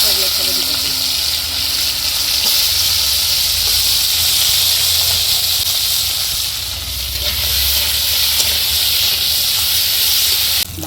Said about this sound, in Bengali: তেলের মধ্যে কাঁকড়া দিয়ে ছেড়ে দিতেছি